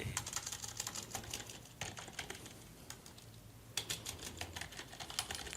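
Quick, irregular clicking of keys on a computer keyboard, close and quiet, with a brief pause partway through before the typing resumes.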